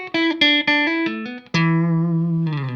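Dry signal from an electric guitar, a few plucked notes and chords played cleanly, ending on a sustained ringing chord, close and clear with no talking.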